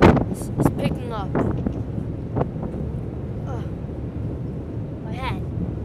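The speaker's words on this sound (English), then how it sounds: "The wind is picking up." Wind blows across a small boat on open water, a steady buffeting rush at moderate level, with excited voices and shouts heard over it, loudest near the start.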